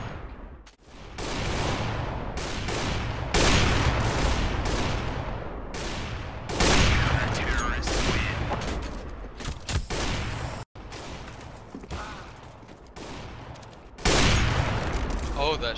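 Rapid video game gunfire in bursts and volleys, loud and close, with sharp shots repeating across the whole stretch and a brief gap before more firing; speech is faintly mixed in.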